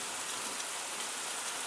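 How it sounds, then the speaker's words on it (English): Heavy rain pours steadily during a small thunderstorm passing overhead, a dense, even hiss that runs unbroken throughout with no voices. "here you can see how heavy this rain has got for a small storm passing over here"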